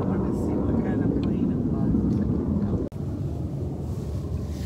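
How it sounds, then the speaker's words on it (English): A fixed-wing airplane passes overhead, a steady low broadband roar dominating throughout, with a brief dropout midway; a voice talks over it at moments. "I wanted to see what kind of plane it was."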